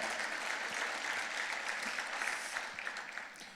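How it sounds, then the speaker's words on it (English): Sustained applause from a banquet audience at an education foundation dinner, many hands clapping steadily and fairly close, with a few scattered individual claps standing out as it gradually eases. "let's give them a round of applause for being so supportive."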